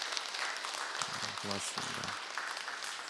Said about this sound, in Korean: 우리 한 번 더 좀 박수 한번 해주면 좋겠습니다